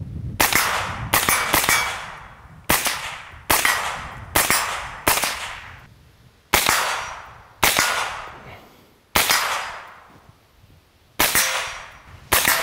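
An Mk 18 carbine firing 5.56 rounds, a series of about ten sharp, loud gunshots at irregular intervals, each followed by a short echoing decay, with no talk.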